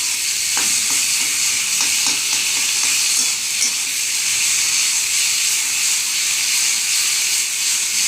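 Onion, garlic, ginger and chili sautéing with poppy seed paste in a pan, a loud continuous sizzle and hiss with a few brief stirring scrapes early on, no talking.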